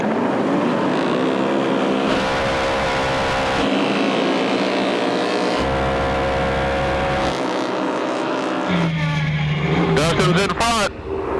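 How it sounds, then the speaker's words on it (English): Can-Am Maverick Turbo UTVs launching off the start at a UTV race, engines droning and revving loudly with rising pitch sweeps as they pull away, under a speaking voice. "Dustin and Shane Dowden in their Can-Am Maverick Turbo pulled a hole shot and blazed through the first corner in first place"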